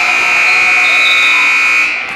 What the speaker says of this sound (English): As the buzzer sounds, that was Jackson French